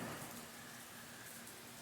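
Heavy rain pouring down outdoors, a steady broadband hiss of drops that holds evenly through the whole stretch, faint and unbroken with no voices.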